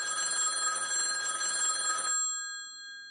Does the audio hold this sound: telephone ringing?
yes